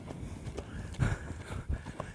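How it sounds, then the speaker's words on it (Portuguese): Hooves of a ridden horse clip-clopping in an uneven rhythm during riding exercises, soft thuds at moderate distance with a faint background hum. "vou deixar esse cavalo galopar"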